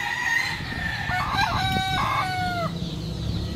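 A rooster crows once in a long, loud cock-a-doodle-doo near the microphone, with steady farmyard background noise throughout and no talking.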